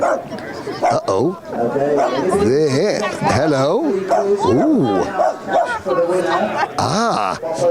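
A small sausage dog yips and whines in high, wavering bursts close by, mixed with a person talking over it, in a karting paddock.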